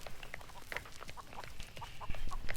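Chickens cluck in the Texas Chainsaw Massacre video game, a series of short, clipped squawks and clucks scattered over a busy, rustling game background at moderate volume.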